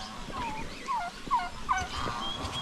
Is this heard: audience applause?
no